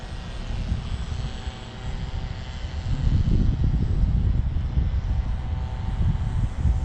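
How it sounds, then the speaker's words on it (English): A small propeller airplane drones steadily as it flies, its engine hum swelling louder about halfway through and holding continuous with no voices. "Here's a fun little airplane."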